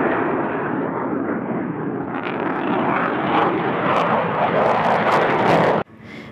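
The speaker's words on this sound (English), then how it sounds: "all the planes are starting to arrive" A loud, continuous roar from aircraft flying over a campsite at the Air Tattoo air show fills the whole clip, swelling slightly before cutting off abruptly near the end.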